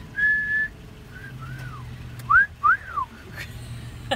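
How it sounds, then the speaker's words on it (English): A young child whistling nearby, a long steady note followed by several short rising and falling chirps with pauses between, clear and close, with no talking. "He's whistling."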